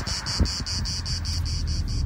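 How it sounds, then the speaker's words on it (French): Cicadas sing outdoors in a fast, pulsing buzz of regular, evenly spaced bursts, loud and steady, with faint wind and low rumble underneath and no voices. "Et on entend les cigales."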